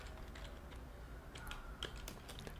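Soft, scattered keystrokes on a computer keyboard while working in the vim text editor, faint and close against a low steady room hum.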